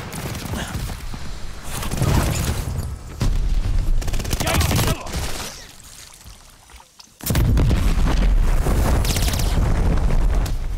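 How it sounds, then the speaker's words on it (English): An enemy glide bomb explosion in Call of Duty: Vanguard, with loud rumbling battle noise and gunfire that dips briefly before a heavy blast surges back in and sustains, amid ongoing combat. "Heads up, enemy glide bomb coming in hot."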